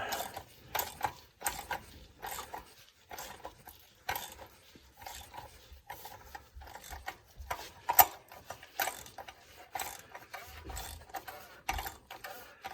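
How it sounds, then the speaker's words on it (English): A wrench tightens the oil drain plug on a 2009 Scion xD with a 1.8 engine, giving close, quiet metallic clicks and ratcheting taps in an uneven rhythm with short pauses between turns. "put the wrench back on it and go ahead and tighten that guy up."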